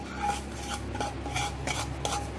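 Dry roasted semolina scraped and poured onto a plate in repeated rasping bursts, close and moderately quiet, with faint clinks of a utensil against dishware.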